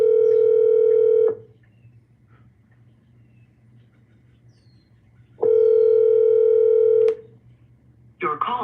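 During a cold call to a vacant land owner, two long, steady telephone ring tones sound on the line, separated by several seconds of quiet. A voice starts at the very end.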